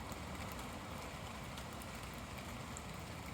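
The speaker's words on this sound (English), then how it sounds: "But it is absolutely pouring it down." Heavy rain pours steadily over woodland with silver birches, a dense even hiss with faint scattered drops and no talking.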